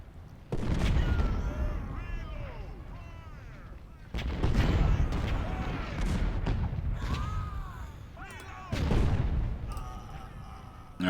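Artillery batteries firing in the Civil War strategy game Ultimate General Civil War, three long rumbling booming volleys spaced several seconds apart, each trailing into a dense roar with whistling tones, plus faint background voices.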